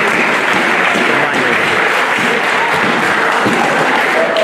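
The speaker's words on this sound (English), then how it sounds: "Clap for him as he's coming." Loud, sustained clapping from a crowd of students at a boys' school career guidance and mentorship fair, a steady dense roar of hands welcoming the head boy, with faint voices mixed in.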